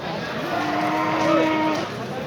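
Pedigree cattle at the Özgön livestock market give a single drawn-out moo over a steady wash of crowd chatter and market bustle.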